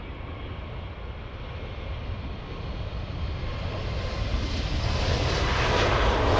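A Lufthansa Airbus A220 jet at Munich airport roars steadily, its broadband engine rumble building gradually louder and nearer over several seconds, with no talk.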